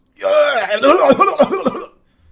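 A person's voice imitates coughing and choking, a strained gagging sound followed by a few sharp hacking coughs, close and loud.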